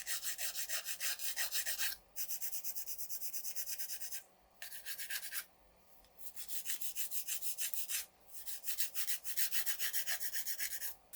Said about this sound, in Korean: 손톱 모양을 먼저 다듬어 줄게요.